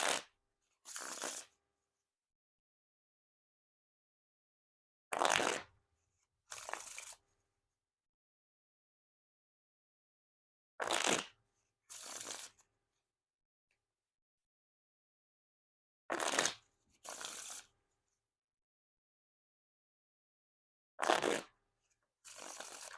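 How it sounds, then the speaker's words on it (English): Riffle shuffles of a Bicycle Memoria Feinaiglian Grid deck of playing cards: four close, crisp pairs of rapid fluttering bursts, each riffle followed by a short bridge, separated by silence. "Now time for the riffle shuffle or bridge shuffle."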